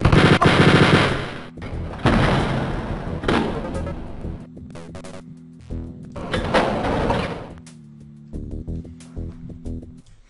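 Rapid bursts of gunfire from the video game Wolfenstein: Spear of Destiny, loud automatic fire at the start followed by several separate volleys and single shots, no voices.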